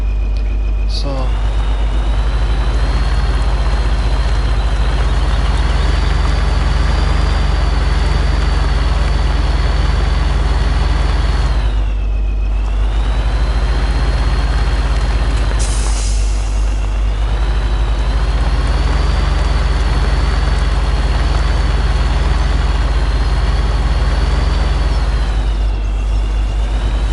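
A tractor engine idles in a PS4 video game with a steady low drone and a continuous mechanical hum, loud and close throughout, with brief shifts in tone and a short hiss partway through.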